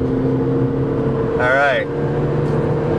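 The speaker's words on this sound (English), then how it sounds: "can you hear that engine?" Car engine revving hard as it accelerates on a German Autobahn, a steady loud drone of engine and road noise filling the cabin, with a brief spoken phrase over it.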